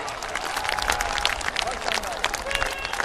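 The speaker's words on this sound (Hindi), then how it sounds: "जिसको आपने तालियों के गाजे बाजे के साथ उसका स्वागत किया" A large audience applauds at a farmers' scheme event marking the release of the 21st instalment of ₹2000 payments, a dense, continuous wash of clapping that stays loud and steady throughout.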